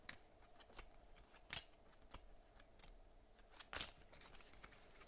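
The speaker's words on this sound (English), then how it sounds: "3 cards left, so we have to shuffle our discard pile." A discard pile of playing cards is shuffled during a solo tabletop wargame, heard as two short, quiet riffling bursts over a faint, still room with no talking.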